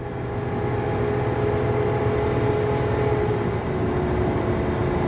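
Steady, loud drone of a Chevy Silverado 2500 with the gas L8T V8 at wide open throttle, towing up a 6% grade, a constant low engine roar with road and wind noise and no clear shifts.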